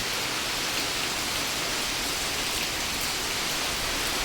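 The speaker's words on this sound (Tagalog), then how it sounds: "ang sobrang lakas ng ulan at hangin" Heavy rain with strong wind pours steadily during a storm in a rural farming area, a dense, loud, unbroken wash of noise with no pauses and no voices.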